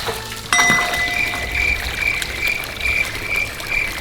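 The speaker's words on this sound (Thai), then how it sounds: "เปิดเครื่องรอนะทุกคน น้ำตกมา" An artificial garden waterfall starts up as its pump is switched on, and a steady rush of flowing, splashing water begins abruptly and carries on evenly, with a faint high tone running through it.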